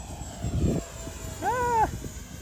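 A small RC jet with a 50mm electric ducted fan powers up with a brief rising whine that climbs and then falls away, heard nearby after a short thump, with no talking.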